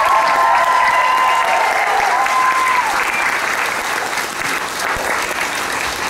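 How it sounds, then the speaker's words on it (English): Sustained, loud applause fills the hall as an audience gives a big round of clapping for a group of performers, steady throughout with a few cheering tones rising above the dense clapping. "massive round of applause."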